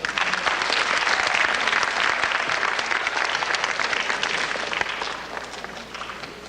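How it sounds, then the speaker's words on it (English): An event audience applauds a backstage crew with dense, sustained clapping that starts loud and thins gradually toward the end, with no talk over it. "a big round of applause for them, please"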